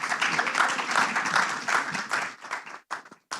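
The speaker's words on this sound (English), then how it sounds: "Can I please get a round of applause for our panelists?" An audience claps steadily, a dense patter of many hands that thins out and stops with a few last scattered claps.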